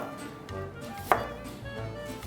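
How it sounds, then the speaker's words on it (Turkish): A knife slicing red onion into thin half-moons on a cutting board for a Turkish bean salad, soft steady chops with one sharper knock near the middle, close and quiet. "yarım daireler halinde ince ince kıyıyorum"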